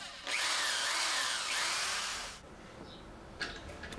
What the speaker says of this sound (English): then I'm going to start drilling out the hole.